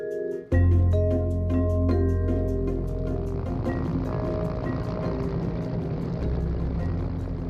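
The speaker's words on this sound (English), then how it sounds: "That's a helicopter you're hearing." Military helicopter over the Red Sea, a loud steady rotor and engine drone that starts abruptly and holds close and constant for several seconds, with a faint rhythmic blade chop.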